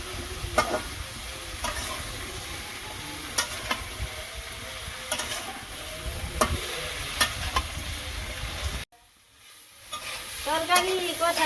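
Pabda fish curry with stalks and potatoes sautéing with turmeric and chili, a close bubbling sizzle with repeated clanks and scrapes of a spatula against the pot, cutting to a quieter spell before the frying noise rises again.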